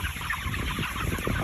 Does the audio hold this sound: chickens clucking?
yes